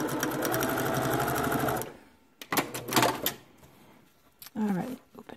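A sewing machine stitching pieces of quilt fabric together runs in a fast, steady whirring chatter for about two seconds, then stops, followed by a few short bursts of speech and handling noise.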